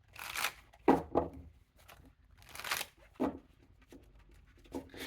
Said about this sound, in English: These are the cards that are kind of hard to shuffle